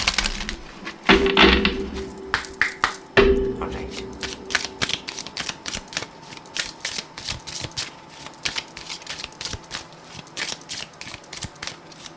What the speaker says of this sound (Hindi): शफल कर रही हूँ कार्ड्स।